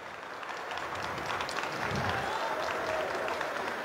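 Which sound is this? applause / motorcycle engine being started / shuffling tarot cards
applause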